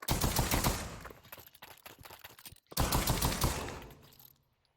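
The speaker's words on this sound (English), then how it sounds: "You can also shoot it really fast." A revolver fired in rapid succession in the Pavlov VR shooter, a loud dense burst of overlapping shots, a brief gap, then a second volley that fades into a tail.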